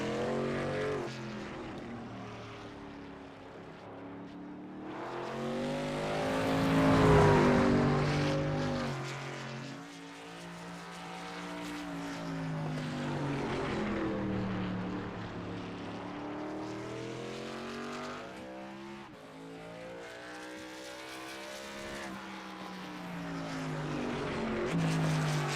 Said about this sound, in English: Drivers upwards of 160 miles an hour down into that corner before they jump on the brakes.